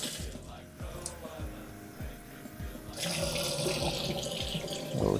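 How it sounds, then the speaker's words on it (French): Hot water gushes from a kitchen tap into a dish, a steady splashing stream that swells louder and brighter partway through, with clinks of handling before it starts. "Je vais prendre de l'eau chaude du robinet."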